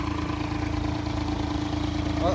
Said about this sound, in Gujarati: 4x4 ટ્રેક્ટર છે VST